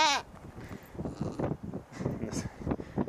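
A goat on a farm in Nepal lets out a short, loud, wavering bleat right at the start, then people talk over faint wind noise.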